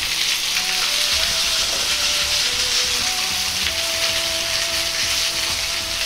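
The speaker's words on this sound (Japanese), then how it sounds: "肉を全部乗せたら、肉の色が黒くなってくるまで、そのままじっくりと焼いていきます。" Pork pan-fried slowly for a ketchup pork sauté, giving a loud, dense, continuous sizzle with fine crackling like heavy rain, while faint background tones and muffled speech sit underneath.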